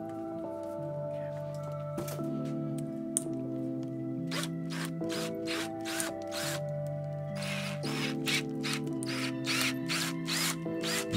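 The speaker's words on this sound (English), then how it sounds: "You do want your drill fairly deep until you see core dust" A small drill motor whirs steadily with a shifting tone, broken by a series of short rhythmic grinding bursts as it bores into a plastic Rubik's cube, close up and fairly quiet.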